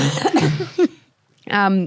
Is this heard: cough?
yes